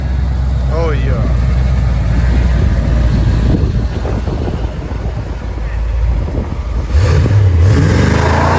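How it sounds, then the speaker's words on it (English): A twin-turbo LS3 V8 in a DeSoto car runs steadily with a rumbling idle and revving, rising toward a louder whooshing spool near the end, with people talking over it. "Y'all heard that turbo spool?"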